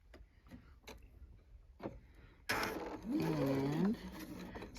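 A sewing machine stitching a paper-pieced quilt block, starting with light clicks and handling noises, then a steady close whirring run for the last couple of seconds, with a brief whine in the middle.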